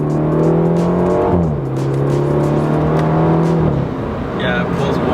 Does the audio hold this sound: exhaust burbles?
yes